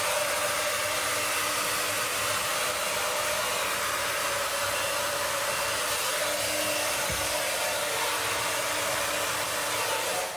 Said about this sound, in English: I'm drying my cowlick so it doesn't lick.